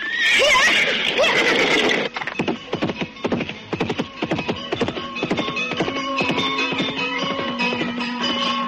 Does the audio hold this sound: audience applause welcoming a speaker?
no